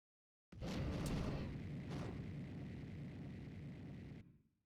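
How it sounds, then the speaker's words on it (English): Bowser's Fire Breath from Super Smash Bros. Brawl roars as a sustained, loud rushing blast of flame, steady for several seconds with a couple of crackling flares near the start, then cutting off with a brief tail. "You can also angle Fire Breath up and down."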